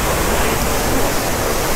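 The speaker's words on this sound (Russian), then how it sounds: "Так, тут везде все капает, капает, но это стоит того." Düden waterfall in Antalya, where water pours and drips, gives a dense, constant roaring wash of falling water, loud and close, heard with no talking.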